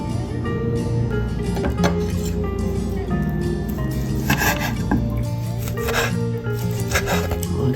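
A knife cuts Costco beef on a board, making repeated clinks and knocks of the blade against the surface amid kitchen clatter. The cuts are near and steady, with no talk over them.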